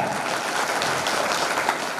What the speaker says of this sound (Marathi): त्या वडिलांकरता एकदा जोरदार टाळ्या.